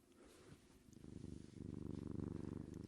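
Zeppo the cat purrs right against a microphone, a low rumbling purr that starts soft and swells into a loud, steady pulsing rhythm, close and alone with no voices.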